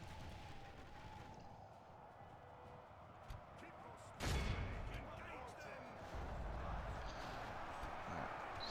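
Muffled cannon and gunfire boom through a Dwarfs of Erebor battle over a bridge. Dull reports thud in the distance over a rumbling background, and one sharp, loud blast stands out midway, with no speech.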